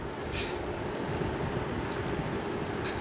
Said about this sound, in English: And now you can hear the birds tweeting away.